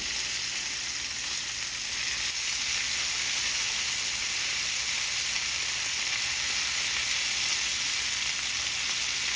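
Cauliflower steaks searing in a hot pan give a steady, loud, broadband sizzle that holds evenly throughout, close up, with no voices.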